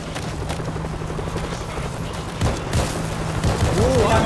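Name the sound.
helicopter arriving in video game World War Z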